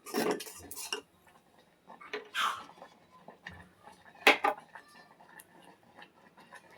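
Sugar tipped into a pan of simmering milk for homemade palkova, heard as a few short gritty bursts mixed with the clink and scrape of a utensil against the pan, with quieter gaps between and no talking.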